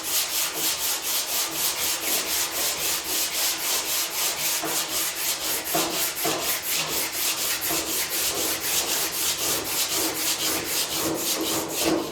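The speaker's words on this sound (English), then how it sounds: "we're gonna keep on sanding it." Steady, rhythmic scraping of sanding on a car panel, fast regular back-and-forth strokes continuing throughout, close and fairly loud with no talking.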